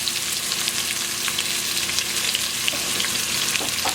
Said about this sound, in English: Okay, the oil is ready, so we're gonna fry the onions.